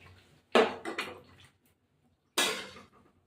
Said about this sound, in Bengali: এবার এটা কষতে থাকি